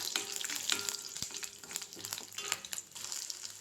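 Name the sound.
frying chana dal, dried chillies, tamarind and garlic in oil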